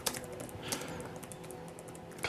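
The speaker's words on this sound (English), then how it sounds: "I'm basically just typing" Fingers type quickly on a computer keyboard, a rapid run of soft clicks and taps at moderate distance, fairly quiet with faint background hum.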